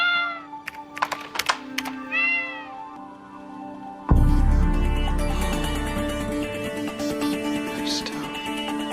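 A cat meows several times in short, rising and falling calls, close and fairly loud, then a sudden thump gives way to a busier, noisy stretch with clicking like typing.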